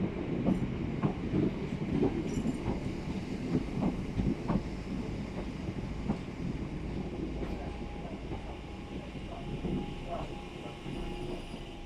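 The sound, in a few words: Southeastern train motor noises at Tunbridge Wells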